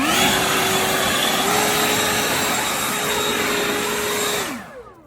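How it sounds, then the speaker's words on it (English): A Greenworks leaf blower roars loud and close with a steady high whine, holding constant for several seconds before spinning down as it shuts off at the end, no talking. "Now get the Greenworks blower out."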